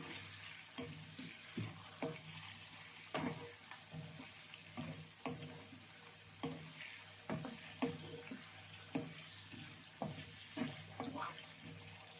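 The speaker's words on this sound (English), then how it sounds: "So I'm going to still fry it till it's nice and cooked." Prawns fry in hot oil for jollof rice, a steady sizzle broken by repeated scraping and clattering stirs of a utensil against the pan, close and continuous.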